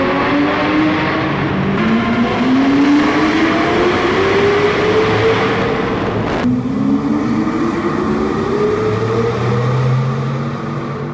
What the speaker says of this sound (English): Just listen to this engine on the tunnel runs